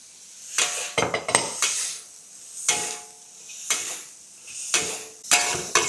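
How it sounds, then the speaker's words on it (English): Char siu, carrot and peas stir fried in a wok, with a metal spatula scraping and clanking against the pan in repeated bursts over a steady sizzle. "Stir fry it for about half to 1 minute and then remove it from the wok"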